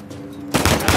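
An explosion in the video game Uncharted 4: A Thief's End bursts out suddenly, loud and crackling. It cuts in halfway through after quieter game sound and rumbles on to the end.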